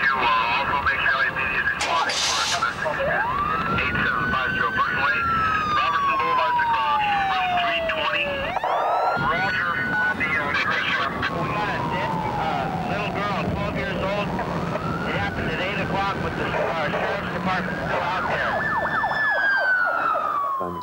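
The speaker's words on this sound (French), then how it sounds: "Les sirènes, les voitures de police" Police sirens wail continuously, sweeping up and down in long rising and falling tones, with voices talking underneath.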